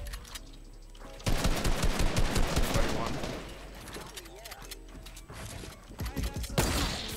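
Gunfire in a first-person shooter arena match, rapid automatic bursts with mechanical clatter, loud and close in several runs separated by quieter stretches of game sound.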